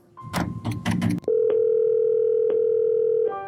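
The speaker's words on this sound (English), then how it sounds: "Let's say you're making an anonymous call to the helpline." A telephone call to a Michigan problem gambling helpline: after a brief burst of button presses and clatter, a loud steady dial tone holds, interrupted by a couple of short clicks.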